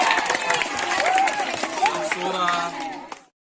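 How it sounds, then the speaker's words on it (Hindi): An audience claps and cheers at a school Teachers' Day event. The crowd noise is busy and sustained, with voices mixed through the applause, and it cuts off abruptly at the end. "ताली बजाओ, ताली बजाओ। ताली बजाया।"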